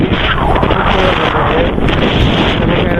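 Cool wind blows over paddy fields on a road trip from Chennai to Arakkonam, roaring loudly and steadily against the microphone for the whole stretch.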